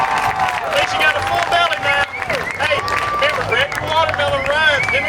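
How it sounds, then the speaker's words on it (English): Kids who just finished a watermelon eating contest at an Independence Day event get clapping from an outdoor crowd, light applause running under lively chatter and shouting voices. "let's give these kids a big round of applause"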